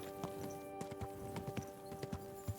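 Horse hooves walking on the ground in Kingdom Come: Deliverance 2, a regular clip-clop of steps at a moderate pace over a quiet background, with no talking.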